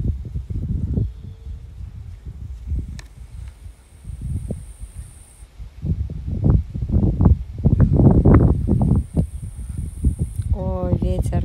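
Wind gusting and rustling through garden plants and roses, broad and breathy, swelling louder in the second half, with faint birdsong high above.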